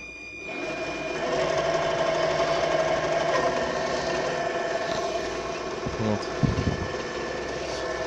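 Drill press driven through a frequency inverter runs with a steady, fairly quiet motor hum and a faint whine, holding an even level throughout, with a few brief knocks near the end.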